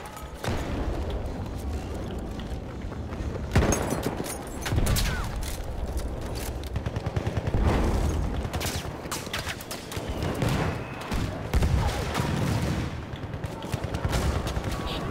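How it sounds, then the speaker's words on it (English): Enemy gunshots in Battlefield 1, a dense run of repeated rifle and machine-gun fire cracking near and far in an ongoing firefight, with talking in between the shots. "That's an enemy shot."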